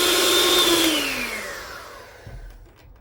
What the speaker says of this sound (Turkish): Hemen şöyle düşük ayarda çırpıyorum.